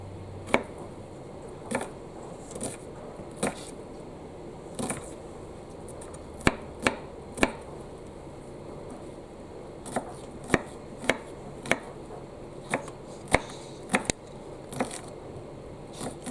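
A knife chops a small onion on a chopping board during a school stir-fried noodles lesson, giving sharp, irregular taps spaced about a second apart, fairly close, with no talking.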